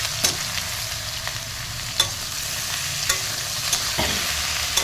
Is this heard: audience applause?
no